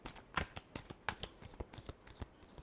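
Tarot cards being shuffled by hand, a quick run of crisp, close riffles and snaps in an irregular rhythm over a quiet background.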